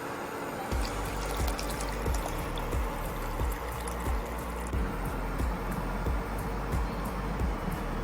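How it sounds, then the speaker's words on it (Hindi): Water being poured into a pot of nihari masala for a nalli nihari, a steady liquid splashing and trickling with repeated low thuds throughout, close and moderately loud. "इसमें मैं पानी थोड़ा और डालूंगा क्योंकि ये बाद में गाढ़ा होगा।"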